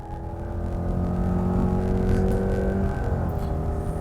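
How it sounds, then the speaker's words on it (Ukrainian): A 2024 Subaru Outback Limited's non-turbo 2.5-litre engine drones and climbs steadily in pitch accelerating from zero to 100 km/h uphill into a bend, heard from inside the cabin with a brief shift near the end. "Зараз ми з вами спробуємо розгін від нуля до сотні."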